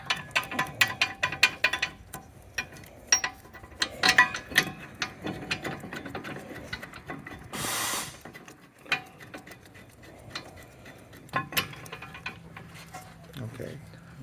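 Hand ratchet tightening the rear brake caliper bracket bolts on a 2019 Nissan Altima AWD, with irregular close clicking bursts, scattered clanks of tools and a brief hiss partway through.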